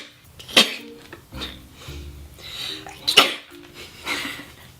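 A woman sneezes sharply twice with breathy intakes and small vocal sounds between, close and fairly loud in a quiet indoor setting.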